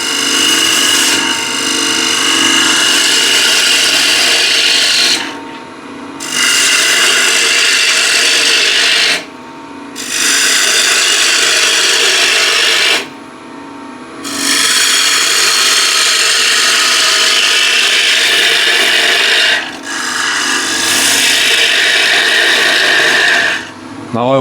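A bowl gouge cuts wood on a lathe as a bowl is turned, giving a loud, close, steady shearing rasp in long passes of about four to seven seconds, broken by brief pauses between cuts.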